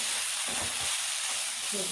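Steady sizzling of prawn biryani masala in a hot pan as previously fried onion is stirred in, a constant hiss broken by a few soft stirring scrapes.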